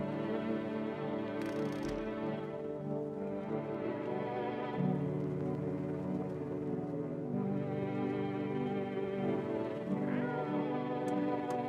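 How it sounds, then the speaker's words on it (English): A cat in a horror video game meows repeatedly in drawn-out, wavering cries over a steady low droning background, close and fairly loud throughout. "Pet the cat."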